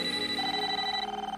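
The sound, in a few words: telephone-style ringing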